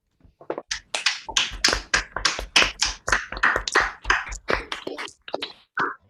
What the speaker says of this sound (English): Could everybody give Douglas a round of applause, please, for a very good talk?